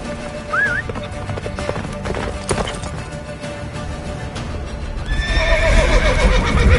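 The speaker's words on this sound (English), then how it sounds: "Faster, Roach. Don't stop" A horse in The Witcher 3 video game gallops with rapid clip-clop hoofbeats and gives a whinny early on, while a louder rush of hooves and music-like tones swells near the end.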